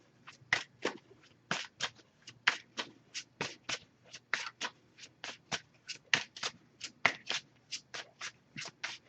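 A Messages of Love oracle card deck is shuffled by hand, making a rapid series of crisp, papery riffling bursts in a quiet room with no talking.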